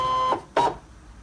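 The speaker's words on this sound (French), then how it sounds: "je vais à présent insérer mon support dans la machine" A Brother ScanNCut CM cutting machine, set up with its linear embossing kit, draws in its cutting mat with two short, close mechanical whirring bursts, a brief pause between them, then quiet.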